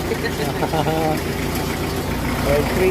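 A Mitsubishi L300 with a 4D56 diesel engine idles close by, a steady, rough low rumble that runs the whole time while people talk over it.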